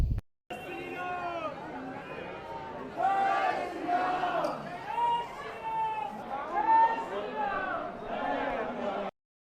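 Dense crowd pressing toward the Hanuman shrine at Hanumangarhi temple in Ayodhya, a continuous babble of many voices with louder shouted calls rising and falling throughout, close and steady.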